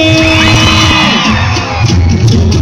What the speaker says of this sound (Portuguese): Quem ama Jesus Cristo dá o um grito!